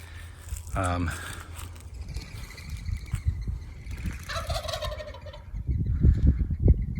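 A dominant tom turkey gobbles loudly and close with a rapid rattling call, followed by further gobbles over a rumbling outdoor background and some handling noise.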